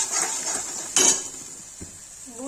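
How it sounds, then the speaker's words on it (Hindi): Cinnamon paste with salt being roasted in a pan, a steady bright sizzle with a sharp metallic clink of a utensil against the pan about halfway through, then a softer scrape. "इसको भूनेंगे।"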